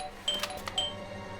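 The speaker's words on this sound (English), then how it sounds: "I thought I should use the doorbell so I wouldn't startle you." A doorbell in the game Blues and Bullets rings with two bright chiming tones, a short two-note ding-dong, fairly faint over quiet ambience.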